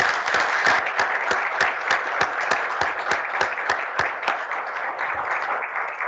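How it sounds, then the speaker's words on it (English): An audience at a conference applauds its panelists, many hands clapping together in a full, sustained round that stays steady across the whole stretch. "Please give a round of applause to our panelists."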